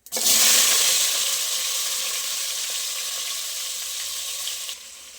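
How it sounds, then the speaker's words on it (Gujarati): Brinjal and potatoes hitting hot oil in a pressure cooker: a sudden loud burst of sizzling that rises instantly and then slowly settles into a steady, softer hiss. "હવે આપણે રીંગણા અને બટેટા ઉમેરી દઈશું।"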